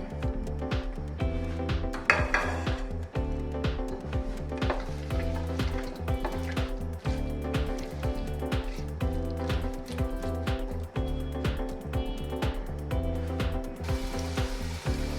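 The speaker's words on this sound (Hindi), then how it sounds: "अब सबसे पहले हम इसमें प्याज फ्राई कर लेंगे।" Chopped onions fry in hot oil in a pot for a bhindi chicken masala, giving a steady close-up sizzle with occasional utensil clinks and stirring scrapes over it.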